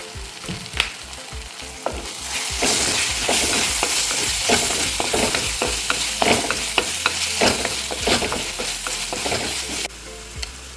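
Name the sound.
sautéing chili and spice masala in oil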